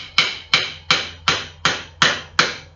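A hammer strikes a chisel in hand-joinery work, seven crisp, evenly spaced blows in a steady rhythm, each a sharp close knock with a short ring.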